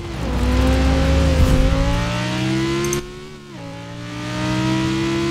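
Audi cars racing in the video game Forza Horizon 4, engines droning and revving in close, loud pitch sweeps as the cars accelerate and shift.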